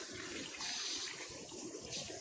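Pressure washer spraying water in the PowerWash Simulator video game, a steady broadband hiss of the jet that wavers slightly in intensity, soft and continuous, with no talking over it.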